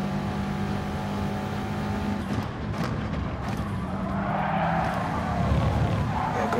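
A Subaru WRX engine in the video game GT Sport hums steadily, then drops abruptly in a quick short-shift before building again, with other race cars faintly around it.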